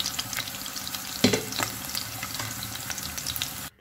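Onion and capsicum cubes fry in hot oil with a steady close sizzle, plus a few sharper stirring clinks and spatters, and no voices.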